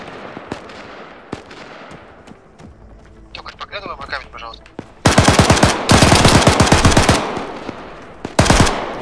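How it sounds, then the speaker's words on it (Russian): Machine gun fire in the military shooter ArmA 3 breaks out in loud, rapid bursts, with a long sustained volley and a shorter one near the end, mixed with scattered distant shots and with players talking over radio before the firing begins. "Пулемет, пулемет."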